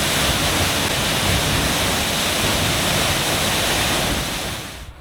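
A waterfall pouring in a steady, broadband roar that stays constant and fairly close before fading away at the very end.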